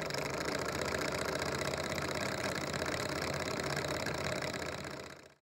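A hand crank electricity generator being turned by its handle gives a steady, dense mechanical whirring that holds at an even level for about five seconds, then winds down and fades out.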